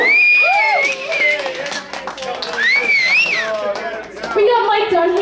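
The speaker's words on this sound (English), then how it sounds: "can we get a round of applause for this great show?" Comedy show audience cheering and whooping, with loud overlapping voices and scattered claps filling the room throughout.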